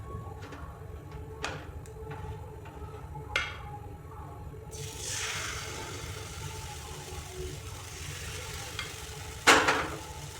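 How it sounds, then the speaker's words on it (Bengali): Ghee heating in a kadai for patishapta pitha, first with a few light scraping clicks, then a steady close sizzle from mid-clip and a sharp louder burst near the end; no one speaks. "তারপর আমি এতে একটু ঘি লাগিয়ে নিচ্ছি কড়াইটাতে।"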